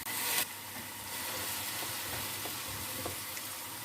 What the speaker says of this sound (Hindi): प्याज को हम फ्राई कर लेते हैं।